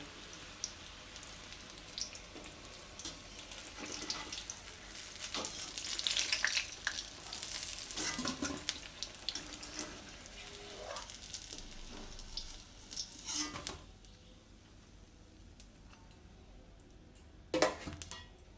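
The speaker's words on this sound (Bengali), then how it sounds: "বেগুনটাকে আমি দুবারে ভেজে নিব" Eggplant pieces fry in oil in a pan, a faint crackling sizzle with bursts of spitting and occasional stirring taps, quieter toward the end, with no one talking.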